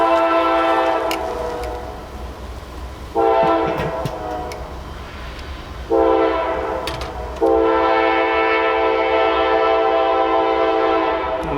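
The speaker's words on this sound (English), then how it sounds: "You're gonna see a train go by. It's super loud." A loud train roars past close by, its horn sounding in long repeated blasts over the constant rumble of the cars.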